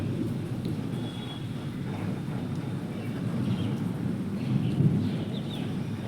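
Rain falling steadily outdoors with low rumbling thunder underneath, a continuous dense wash that swells slightly toward the end; no speech.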